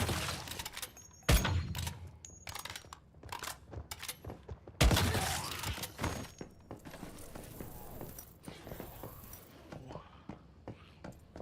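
Gunfire in the survival shooter Once Human: sharp shots and bursts scattered throughout, two especially loud blasts early on, with quieter reports and impacts between them.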